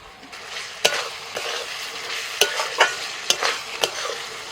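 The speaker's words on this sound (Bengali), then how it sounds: "মশলা একদম রেডি তেল ছেড়ে গেছে এবার দিয়ে দিচ্ছি আমি ভাজা ঢ্যাঁড়স" Fried okra being stirred into a spice masala in hot oil, with a soft continuous sizzle broken by several sharp scraping strokes of the spoon against the pan, close and fairly loud, no talking.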